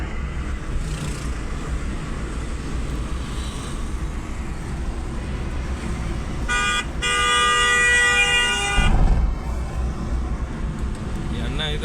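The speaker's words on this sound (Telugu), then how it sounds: "హారన్ కొట్టి వై వై వై అనుకుంటూ పోతుండు" Several vehicle horns honk in a long, loud burst at a busy roadside food stall, over continuous traffic noise and nearby talking.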